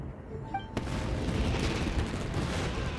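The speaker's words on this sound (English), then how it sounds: "Yoimiya, this is turning into a bit of a fireworks display." Fireworks bursting in Genshin Impact, a sudden sharp bang after a quiet moment, then a dense continuous crackle and rumble of explosions filling the rest, loud and close.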